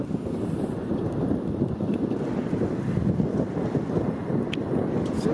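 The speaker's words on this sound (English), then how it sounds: "it's so windy" Strong wind at Llandudno buffets the microphone with a constant low rumbling roar, steady and loud throughout, with no voices.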